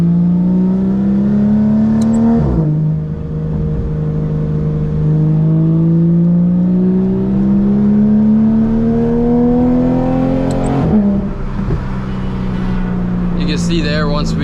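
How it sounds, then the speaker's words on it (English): Porsche GT3 RS with a BRE F1-style racing exhaust climbs steadily through the revs past 5,000 RPM, a loud, rising high-pitched wail from the cabin with brief dips at gear changes. "once we start to get up above that like 5K RPMs, it really starts to open up and gives it that F1 pitch"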